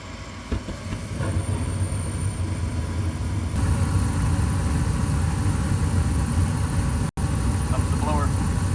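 A household furnace with a newly installed heat exchanger starts up, its burners roaring steadily and the blower joining in as a continuous loud whooshing hum with a brief clunk near the end.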